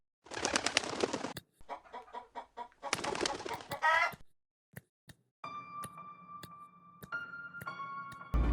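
Chicken clucking in the Evoland video game: two busy bursts of clucks and flutter, then scattered clicks and a sustained electronic game tone with brief chiming notes, moderately loud and with no talking.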